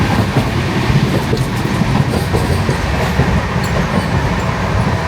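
An Indian passenger train rolls along the rails with a steady, loud rumble and continuous rhythmic clatter of wheels, heard close from inside throughout.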